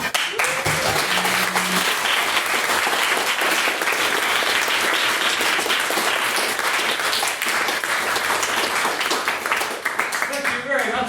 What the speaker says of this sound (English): can we please get yet another round of applause for another wonderful main speech?